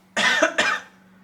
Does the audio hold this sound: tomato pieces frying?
no